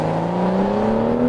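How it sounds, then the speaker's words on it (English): Turbocharged inline six-cylinder in a BMW X5 SUV, heard as a smooth, steady engine hum rising gradually in pitch under acceleration, with no voices. "now this engine's turbocharged. It's very smooth and potent with strong acceleration."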